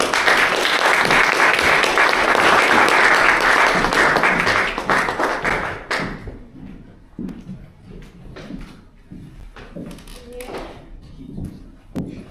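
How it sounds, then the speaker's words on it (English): Audience applause at a panel event on family and sexual violence, loud dense clapping for about six seconds, then fading to scattered claps, shuffling and faint murmurs. "Please let's clap for her."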